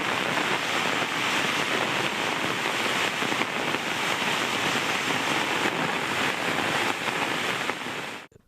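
Heavy rain driven by wind, on a second straight evening of summer downpours in Tamil Nadu, roars as a steady, loud, unbroken hiss that fills the whole stretch before cutting off abruptly at the very end.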